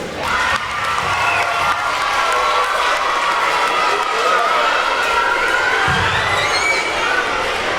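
A large elementary school audience at an illusion show cheers and claps loudly and continuously, with children shouting in a boisterous roar that stays strong throughout.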